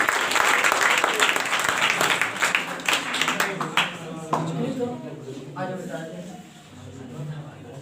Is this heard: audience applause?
yes